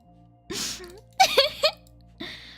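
A person gives one sharp, breathy sneeze, followed by short gasping vocal sounds and another breathy burst, all close to the mic with quiet gaps between them.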